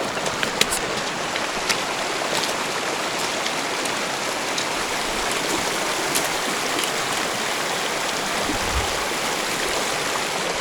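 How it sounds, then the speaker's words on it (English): A mountain stream in the Alaskan sheep-hunting backcountry rushes in a constant, full broadband wash of flowing water, with no voices over it. "A nice stream here, plenty of water."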